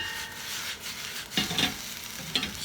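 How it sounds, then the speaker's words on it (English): Onions sauté in a flared sauté pan, giving a faint, steady sizzle with soft stirring and scraping sounds and a few brief clinks of the pan. "right here we've got the onions in a flared sauté pan"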